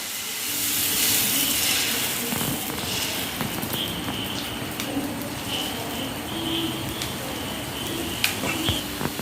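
Jackfruit dosa batter sizzles on a hot greased tava with oil and ghee, a steady close hiss with a few faint clicks and pops scattered through it.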